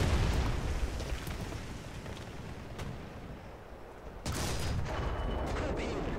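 A Panzer IV/70 tank destroyer fires its cannon in War Thunder, amid a rumbling, noisy battlefield; a sharp, loud blast lands near the end, followed by a lingering roar.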